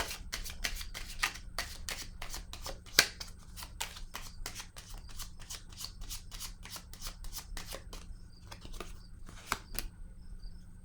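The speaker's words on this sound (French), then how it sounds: "Je vais déposer une autre carte sur Espoir à l'envers." Playing cards are handled and laid down on a table during a tarot-style reading, making a rapid run of crisp, close slaps and shuffling flicks across the whole stretch, fairly quiet and with no talk.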